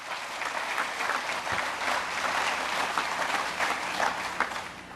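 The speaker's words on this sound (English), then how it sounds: "That's worth applauding." A crowd claps in sustained applause, moderately loud and a little uneven, with a few sharper individual claps standing out from the steady wash.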